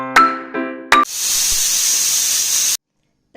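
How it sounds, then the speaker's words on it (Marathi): A pressure cooker of spiced millet masale bhaat lets out two short tonal whistle blasts, then a loud, steady, close rush of hissing steam for about two seconds before it cuts off sharply. "आता याला कुकरचं झाकण लावून 4 शिट्ट्या काढून घ्यायच्या आहेत."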